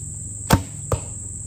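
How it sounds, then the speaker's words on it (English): Two arrows shot from a real deer stand strike a target in quick succession, each a sharp, short thwack, the first louder than the second, over a steady high insect-like hiss. "I'll shoot another one"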